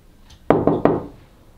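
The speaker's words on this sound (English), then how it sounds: "I am the one who knocks." Three quick, solid knocks on a closed wooden bathroom door, evenly spaced and close, with silence around them.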